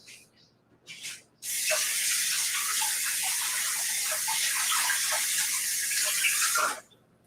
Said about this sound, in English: a great opportunity to wash your hands once more